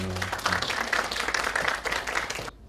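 An audience at a Korean film talk welcomes director Kang Sang-woo of the documentary Kim-gun with brisk, dense applause that holds steady and then stops abruptly.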